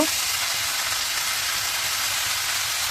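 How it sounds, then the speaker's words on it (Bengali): Vegetable noodles with red and green capsicum frying in a pan with a little oil and soy sauce give a steady, close, even sizzle that holds for the whole stretch without pause. "নুডলসটা সবজির সাথে আমি সুন্দর করে মিশিয়ে রান্না করে নেব।"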